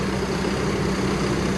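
A car engine idles steadily while warming up after an oil filter change, a constant low rumble close by with no talk over it.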